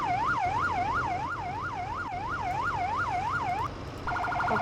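A fire engine's fast yelp siren warbles rapidly up and down, loud and close, before switching briefly to a different pulsing tone.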